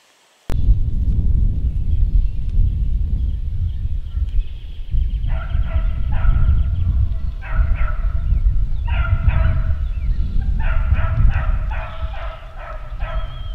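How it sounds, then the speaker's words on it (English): Beagles barking near a campsite, repeated bursts of yelping barks that start partway through over steady outdoor background noise. "this guy came up with these damn beagles, and they've been barking every second since for about an hour"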